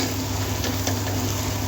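Spiced tomato and onion are stirred in a frying pan, a short burst of continuous sizzling with soft scraping of the spoon close by.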